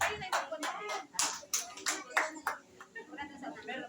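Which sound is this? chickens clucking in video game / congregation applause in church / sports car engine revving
congregation applause in church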